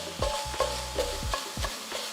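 Ground meat for dirty rice cooking in a hot pan, a low steady sizzle broken every half second or so by the scrape of a spoon stirring it, close and moderately loud.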